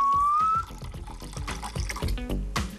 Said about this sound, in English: I'm gonna start with some malt vinegar.